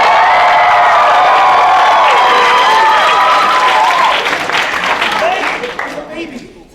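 A comedy show crowd roars with cheering, whoops and applause, loud and dense at first, then fading out over the final seconds.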